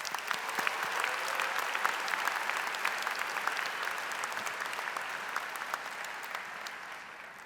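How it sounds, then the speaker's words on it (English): Sustained applause from graduates and guests at a 2023 Drexel University College of Engineering commencement ceremony, a steady dense wash of many hands clapping at moderate distance for the full stretch, easing slightly near the end. "Let's give a round of applause to our fellow graduates"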